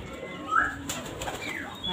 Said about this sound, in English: Here we have the peace pigeon, or the Indian funded pigeon.